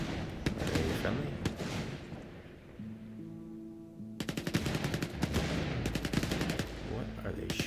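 A firefight in S.T.A.L.K.E.R. 2 rattles with rapid automatic gunfire, with bursts of fast cracking shots at mid-distance, a short lull and then a longer sustained volley.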